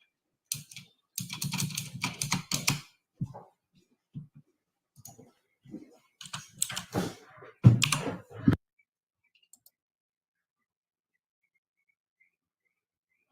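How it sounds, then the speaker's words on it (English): Heavy, forceful typing on a computer keyboard during a live futures trading session comes in several quick bursts of loud clacking, separated by short pauses, before going quiet. "Paul likes to beat up his keyboard pretty bad."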